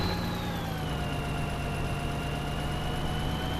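A big tractor in Farming Simulator 2013 idles with a steady low hum, overlaid by a constant game-like whine that drifts slightly lower in pitch, quiet and unbroken throughout.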